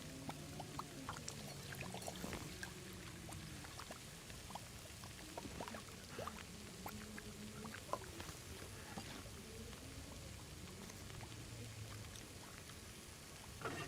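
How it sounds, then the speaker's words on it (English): Water poured in The Long Dark video game gives a faint, steady trickling splash with scattered drips and small clicks, continuing for many seconds under a low background murmur without speech. "Throw some water on."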